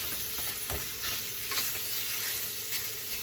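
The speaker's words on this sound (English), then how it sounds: "So we're just going to want to break up the sausage pretty good" Pork sausage is broken up with a utensil in a hot skillet while browning for country gravy, a close crackling sizzle punctuated by scraping and stirring strokes against the pan.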